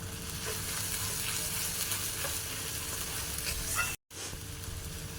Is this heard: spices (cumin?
yes